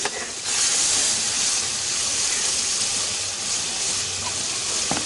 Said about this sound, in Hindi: अभी हमने इसके अंदर गोश्त डालना है